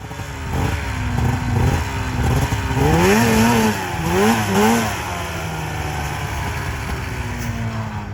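A snowmobile engine stuck in warming, slushy snow revs hard and loud and close, its pitch surging and falling in repeated waves before settling into a steady idle drone, with no voices.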